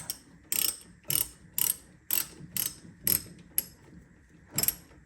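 A socket ratchet with an E18 socket clicks in about nine short, sharp bursts while loosening tight brake caliper bolts in an awkward spot on a Tesla Model 3. The bursts are loud and close, separated by brief pauses, with no speech.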